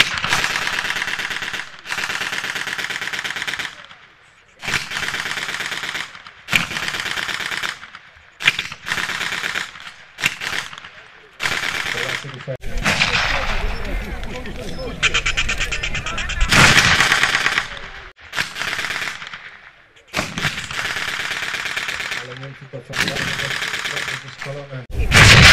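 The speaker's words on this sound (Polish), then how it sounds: "Polacy wsypali się w tyralierę i odpowiadają ogniem." Gunfire and machine guns at an outdoor September 1939 battle reenactment: rapid bursts of automatic fire and scattered rifle shots, loud and close, alternating with short pauses, with someone narrating over a loudspeaker in between.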